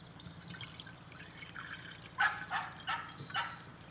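Soaked omija (schisandra) liquid is poured through a small strainer and cheesecloth into a jar, giving faint trickling and dripping that grows into a few louder splashy pours near the end.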